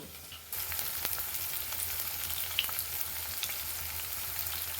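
Continuous loud sizzle of onions frying in coconut oil, crackling steadily from start to finish after a quiet first half-second.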